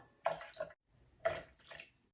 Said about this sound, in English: you're gonna measure the 3 ounces of grapefruit juice into here